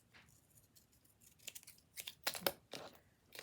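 Scissors snip the uneven edge of a handmade paper fan earring, giving a few close, crisp cuts and crinkles in the latter half after a quiet start.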